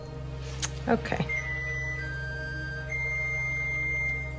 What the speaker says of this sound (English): So what you heard right now is the oven that we recently purchased.